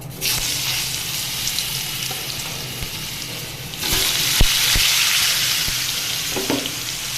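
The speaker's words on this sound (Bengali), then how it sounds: "এবারে দিয়ে দিচ্ছি লাউ।" Bottle gourd tipped into hot oil in a pan for a hilsa fish and gourd dish, raising a steady broadband sizzle that swells louder midway, with a few sharp utensil clinks and no talking.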